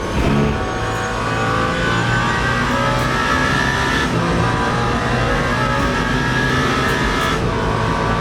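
A race car in the Le Mans Ultimate game runs flat out down the Mulsanne Straight, a loud, continuous high engine drone with steady harmonic whine and brief gear shifts, close and unbroken, with no talking.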